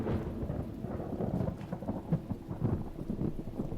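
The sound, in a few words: thunder in the video game The Talos Principle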